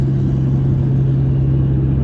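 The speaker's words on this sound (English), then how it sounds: "There's just a truck passing me on the left here" A truck passing by on the road, a steady low engine rumble with an even drone, loud and close, with no talking.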